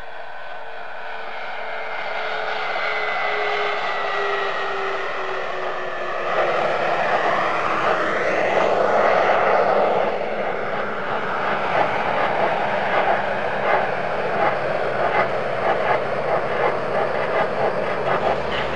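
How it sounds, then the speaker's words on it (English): Space Shuttle Endeavour lands on runway 15 at Kennedy Space Center, a broad roaring rush that swells and shifts in pitch as it passes, then settles into a sustained rumbling wash. "the Space Shuttle Endeavour touching down at Kennedy Space Center on time"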